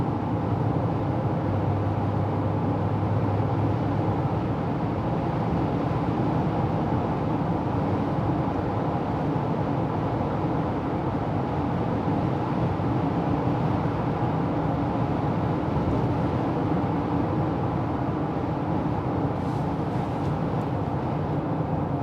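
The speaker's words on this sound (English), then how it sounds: "So I wasn't speaking, so you get an idea what it sounds like in the interior of the vehicle." Steady, even road and engine rumble inside the cabin of a 2024 Honda Ridgeline Trailsport pickup while driving, continuous and moderately loud with no talking.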